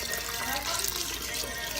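Water pours steadily into a pot of chili, a continuous splashing rush close by that lasts the whole moment.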